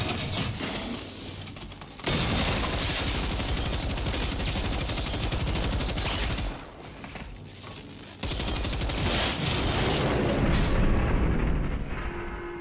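Guns fire in the video game Generation Zero, dense sustained bursts of rapid automatic gunfire with a couple of brief pauses between long volleys.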